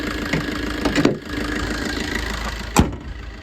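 A 2017 Maruti Suzuki Ertiga VDI SHVS diesel engine idles steadily in excellent condition, a close, even mechanical rumble with a couple of brief clicks or knocks over it, no voices.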